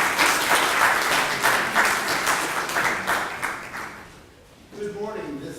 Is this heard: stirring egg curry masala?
no